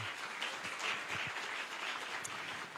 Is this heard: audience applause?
yes